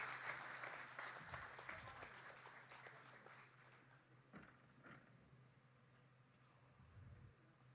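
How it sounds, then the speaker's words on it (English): Audience applause at a chamber of commerce annual general meeting, a sustained wash of many hands clapping that starts fairly loud and gradually thins and fades over several seconds, with a few louder claps near the end. "please give a big hand of applause for this young gentleman"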